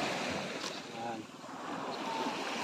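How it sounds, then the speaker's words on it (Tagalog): Surf washing ashore at a beach, a steady broadband rush of waves with wind buffeting the microphone, fairly close, and a faint voice in the background. "Ngayon, nandito tayo ngayon sa tabing dagat."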